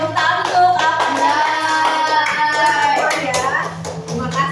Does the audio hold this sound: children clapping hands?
yes